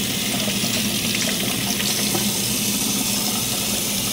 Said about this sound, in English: And now when I wash them off, I make sure that the water is warm, not cold.